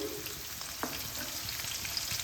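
Small whole potatoes sizzle in oil with whole cardamom, clove and cinnamon, seasoned with turmeric and salt, a soft, steady frying hiss close by with a faint stir or clink partway through.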